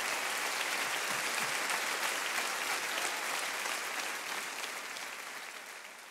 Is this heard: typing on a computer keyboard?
no